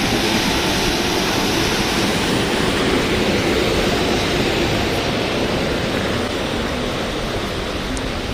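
Steady, loud rushing of water along a course of the River Weaver near Bostock Green, a constant close wash of broadband noise with no pauses and no voices.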